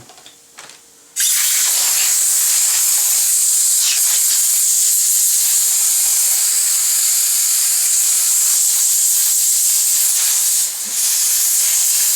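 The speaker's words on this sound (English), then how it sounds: "I already started up my compressor, so we're going to go ahead and blow this out real quick." An air compressor's blow gun cuts in with a sudden, loud, steady hiss of compressed air, clearing out the repair area on a peeling snowboard. The hiss runs continuously at close range and dips briefly once near the end.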